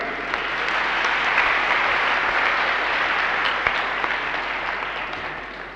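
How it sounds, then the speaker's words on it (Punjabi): An audience at a Punjabi stage play claps loudly and steadily, a dense wash of hands that swells slightly and holds for several seconds without a break. "ਤੇ ਇੱਕ ਤਾੜੀ ਮਾਰੋ"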